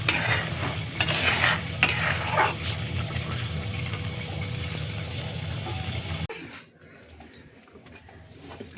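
Jujube (kul) pickle cooking and being stirred in a pan, a steady close sizzle with scraping strokes for about six seconds before the pan noise drops away to a quiet background.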